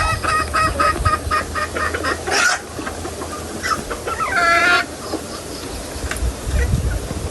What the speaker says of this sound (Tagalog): Nagpapakain lang po si Bossing ng mga manok oh